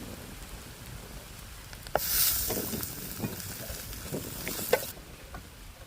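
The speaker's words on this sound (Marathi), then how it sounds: "तर वाटणामध्ये काळा मसाला घालून आपण वाटण छान परतलंय" Ground masala paste mixed with black masala, turmeric and coriander powder sizzles in a pan while being sautéed, with a sudden loud hiss as it starts and a steady frying crackle over several seconds, plus light stirring scrapes.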